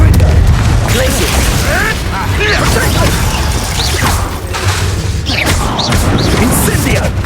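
Glacius ice spell firing in Hogwarts Legacy: a dense, booming wash of magical bursts and crashes with scattered whooshing chirps, loud and steady throughout amid ongoing battle noise.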